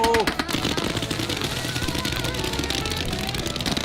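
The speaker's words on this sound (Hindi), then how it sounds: "मैंने बस रैंडम पटाखे खरीदे थे, सोचा नहीं था इतना बवाल मच जाएगा।" Fourth of July firecrackers go off in rapid crackling bursts, a dense loud string of pops and bangs with faint whistling near the start, while voices shout in the background.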